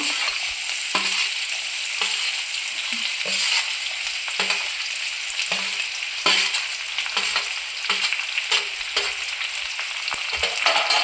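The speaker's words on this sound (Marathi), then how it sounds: "आता कांदा आणि कढीपत्ता ॲड करायचा आपल्याला" Onion and curry leaves fry in hot oil with cumin, a loud close sizzle punctuated by repeated spatula scrapes and clinks against the pan at an irregular rhythm, no voices present.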